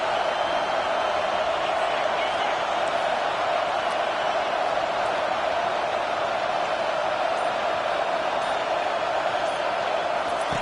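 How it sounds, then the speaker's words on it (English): A home crowd at a college football game roars in a steady, sustained wall of cheering and noise on third down, loud and continuous throughout. "Here comes this home crowd as the defense tries to get off the field on 3rd down."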